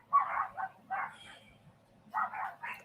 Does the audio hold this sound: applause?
no